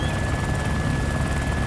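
A helicopter in a video game lifts off, its rotor thudding in a loud, steady, close drone that fills the brief moment without any speech.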